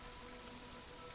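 Steady rain falls in the video game Disco Elysium, a dense, even hiss of drops on surfaces over the rooftops of a city precinct, continuous and fairly soft with no voices.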